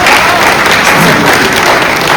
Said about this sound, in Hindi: इसी बात पे आप जोरदार तालियां बजाइएगा।